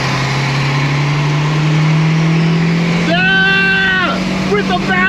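A Lancia Delta Integrale 16v engine revs up inside the car, its rising harmonic whine climbing in two bursts over a steady low drone, loud and close, with people talking over it.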